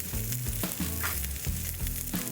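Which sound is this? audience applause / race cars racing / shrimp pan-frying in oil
shrimp pan-frying in oil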